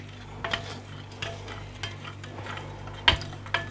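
Fougasse ingredients being stirred in a bowl with a spoon, with soft rhythmic scraping and a few light clinks against the bowl over a low background hum, close by and without speech.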